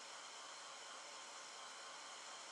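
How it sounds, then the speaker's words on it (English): A hair dryer runs steadily at close range with a continuous, even airy roar while drying paint on a Dollar Tree butter dish vase craft. "I'm using my hair dryer right here"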